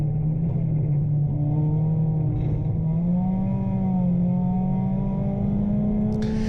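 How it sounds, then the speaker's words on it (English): Puma Cup race car climbing out of a left-hand corner at Cadwell Park: a loud, continuous engine drone from inside the cockpit whose pitch rises, sags and then climbs again steadily. "How the revs picked up when I accelerated and then bogged down and then went again"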